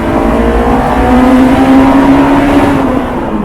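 A stock Honda S2000 sports car engine with standard exhaust revs hard and holds a high, droning pitch close by, with a strong rumbling tone and no talking.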